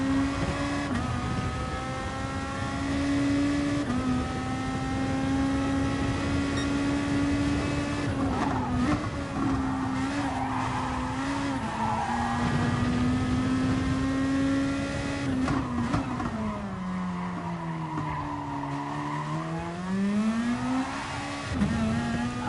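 A race car engine in GT Sport revs and accelerates through a time-trial lap, its loud whining tone rising and falling as the throttle is fed on and off through corners, with brief tire noise and no talking.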